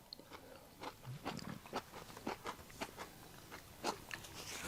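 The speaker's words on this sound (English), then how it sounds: "It's going to be really noisy because I'm still chewing, and that is going to be picked up by the microphone." Close-up chewing and crunching of a fresh paste tomato, with a rhythmic series of moist bites and crunches, faint and near the microphone.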